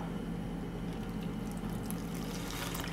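Water poured into a pot of raw sprouted mung beans, a steady continuous splashing and trickling fill close by, even in level for the whole stretch with no speech.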